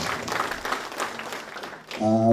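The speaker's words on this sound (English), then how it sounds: "Okay, we can just applaud them in absentia." Audience applause at a hockey awards ceremony, moderate and somewhat distant clapping that fades before a tonal hum cuts in at the end.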